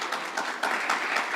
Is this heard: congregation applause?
yes